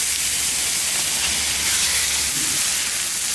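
Turkey meat sizzling in hot oil in a pan, a steady, loud, broadband hiss that runs unbroken with no voices over it.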